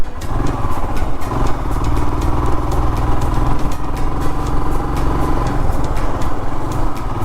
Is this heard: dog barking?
no